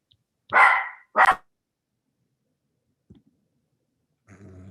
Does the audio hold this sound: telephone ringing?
no